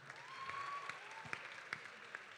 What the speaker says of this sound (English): give them all an applause another time, please